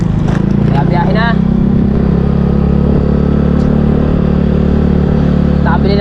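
A motorcycle carries a rider home with a sack of rice up front, its engine droning steadily and close throughout, with faint speech-like sounds over the continuous low rumble.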